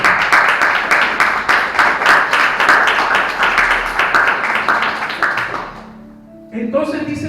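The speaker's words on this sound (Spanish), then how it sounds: "¿Cuánto le brindan un aplauso a la gloria de Dios?" A church congregation claps steadily and densely for several seconds during a sermon, the applause fading out before a few brief tonal sounds at the end.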